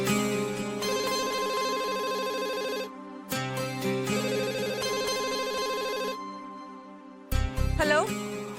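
A telephone rings in long electronic trills, pausing briefly between bursts, loud and close, with a short pickup-like click near the end.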